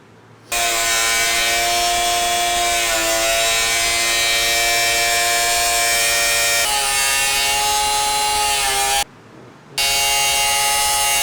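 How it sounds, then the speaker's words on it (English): A power tool cuts into the frame rails of a Nissan 240sx with a loud, steady high-pitched whine, running for about eight seconds before a short break and then resuming. "also going to cut about 1/2 inch in off of these frame rails"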